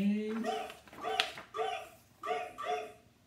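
A voice imitates a dog's barking in a rhythmic, sing-song run of short yaps and yips, several bursts in quick succession, close and fairly clear.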